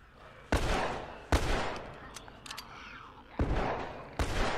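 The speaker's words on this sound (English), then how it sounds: "Why aren't you guys chasing that motherfucker that's shooting the gun?" Gunshots in The Last of Us, four sharp loud reports spaced about a second apart, each with a short echoing tail over quiet ambient game sound.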